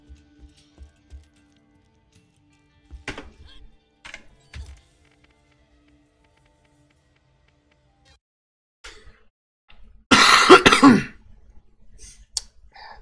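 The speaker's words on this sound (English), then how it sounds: "And there's that coughing I warned you about." A person coughing during a Borderlands gameplay session, a few sparse scattered noises early on and then one loud, harsh burst of coughing near the end, otherwise quiet with no talk.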